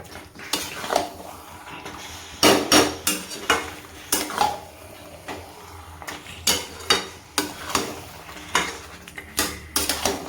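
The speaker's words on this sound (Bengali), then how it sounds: "সেই চিকেনটা দিয়ে খুব ভালো করে এবার এটাকে কষবো" Metal spatula scraping and clanking against a pan while marinated chicken is stir-fried, with sharp repeated strikes in an irregular rhythm over a faint sizzle, close and alone without talk.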